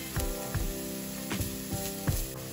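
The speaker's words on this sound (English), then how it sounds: "Fry for a minute." Chopped ginger frying in oil in a pan for an omelette, with a steady close sizzle and a few brief sharper crackles and stirring knocks, with no voices.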